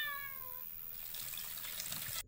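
A cat lets out a single drawn-out meow with a falling pitch, close and fairly quiet, followed by running water from a kitchen tap.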